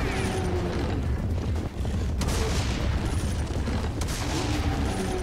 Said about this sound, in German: zwei Schüsse mit der Doppelläufigen sind die Black, sind die weg